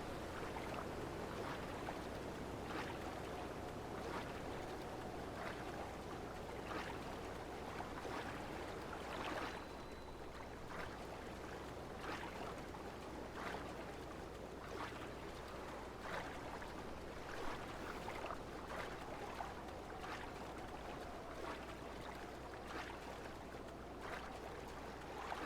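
Steady broadband rush of a waterfall in The Legend of Zelda: Breath of the Wild, continuous and fairly loud throughout, with soft repeated tapping accents over the constant water noise and no talk.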